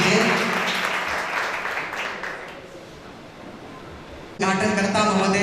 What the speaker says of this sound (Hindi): जोरदार तालियां भाषणों के लिए।